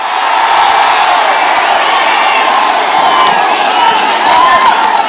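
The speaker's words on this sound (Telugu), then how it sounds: "గట్టిగా చప్పట్లు కొట్టి వ్యతిరేకించండి." Large crowd at a political rally in Anaparthi clapping and cheering loudly, a dense, steady roar of applause with whoops and shouts that swells slightly near the end.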